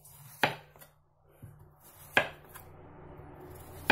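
A knife chops zucchini into slices on a cutting board, giving a few separate sharp knocks spread out over a few seconds, with quiet kitchen sounds in between.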